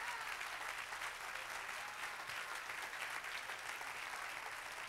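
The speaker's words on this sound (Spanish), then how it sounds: "Dale un aplauso al Señor." A church congregation applauding during a sermon, continuous dense clapping spread across the room, steady and fairly faint, with no one speaking over it.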